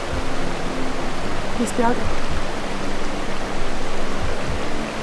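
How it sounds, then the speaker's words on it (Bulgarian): Steady rushing water flows continuously in the background, like a stream or small waterfall, with a brief voice speaking briefly over it. "Може ли да чуя нещо друго, освен кървящата вода отзади?"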